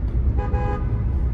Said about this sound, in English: Do people honk their horns anymore in tunnels?